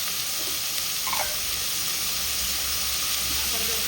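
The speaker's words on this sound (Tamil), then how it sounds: "வெங்காயம் நல்லா வதங்கட்டும்." Onions sauté in hot oil with salt, producing a soft, constant hissing sizzle with a brief stirring scrape, fairly quiet and close.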